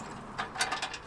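A ratchet tightens exhaust header bolts on a BRZ GT86, giving a few quick, faint clicking pulls close by.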